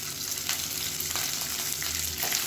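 Curry leaves, small onions and chana dal frying in hot oil, giving a steady, close, crackling sizzle with faint stirring scrapes throughout and no voices.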